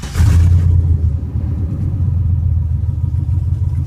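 An LSX V8 swapped into a BMW E28 with side pipes cranks and fires, a loud deep rumble that settles into a steady, lopey low idle, close by with no talking.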